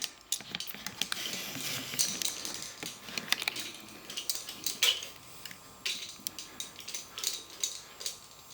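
Engine rocker bolts being run down by hand with a ratchet during cylinder head, rocker and pushrod installation, giving quick, close clicking and light metallic taps that repeat unevenly throughout.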